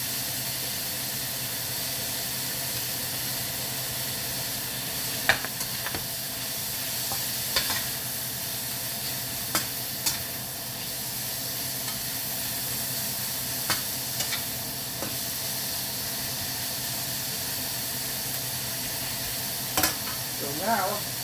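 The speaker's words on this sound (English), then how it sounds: "Now I put the onions in." Onions and chicken fry in a hot wok, giving a continuous loud sizzle and hiss, broken by occasional sharp clinks and scrapes of the stirring utensil against the metal.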